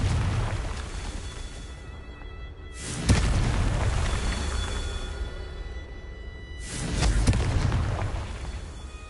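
Two heavy booming blasts from the Confringo fire spell in Hogwarts Legacy, each a sudden deep burst about four seconds apart that rolls off into a long rumbling tail, with no voices.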